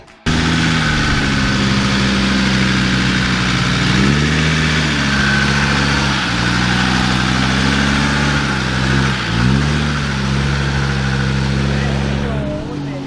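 A petrol Toyota Land Cruiser 100 series idles steadily up close on a farm after mud-hole driving, a loud continuous low engine drone with slight rises in pitch, while people talk over it.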